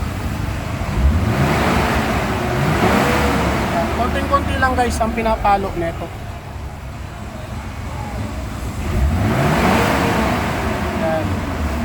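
A Mitsubishi Adventure's engine idles and revs up in several rising swells, close by, while someone talks over it.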